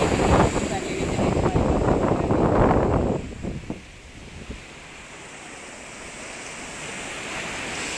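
Sea waves breaking on the shore at Naples, a steady broadband wash of surf with a louder surge early on that eases into a softer, continuous roll; a voice speaks and laughs over the first few seconds.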